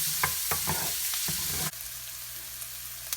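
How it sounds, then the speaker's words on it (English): Onions frying in oil and butter hiss steadily up close, with a few quick clinks of stirring early on before the sizzle suddenly drops to a quieter, even bubbling. "I'm going to add my onions to this, and they will sweat a little bit and then fry"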